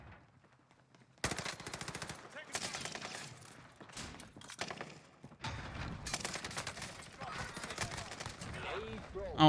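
Rapid bursts of Type 100 submachine gun fire in the video game Warzone, loud and dense, coming in several long strings after a second of near silence, with a voice talking over parts of it.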